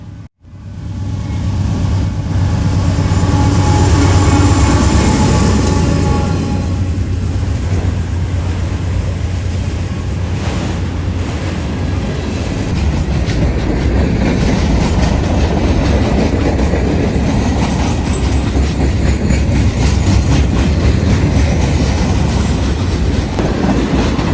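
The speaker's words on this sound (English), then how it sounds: "the two Grand Trunk auto racks behind the locomotive, right in the front of the train" A Norfolk Southern freight train with Grand Trunk auto racks behind the locomotive rolls past close by, a loud continuous rumble with wheel clatter and steady rail noise throughout.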